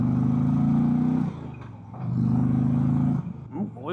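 A 2025 Indian Challenger Elite motorcycle engine rumbles loud and close in two sustained low droning bursts separated by a brief dip, with a short rising rev at the end.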